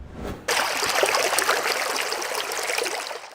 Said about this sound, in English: A steady stream of cool lake water pours over rocks at Lake Itasca State Park